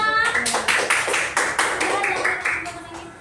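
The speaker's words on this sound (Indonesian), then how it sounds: "tepuk tangan untuk kita semua" A class claps hands together in a steady rhythmic pattern of sharp, evenly spaced claps, close and loud, with voices mixed in.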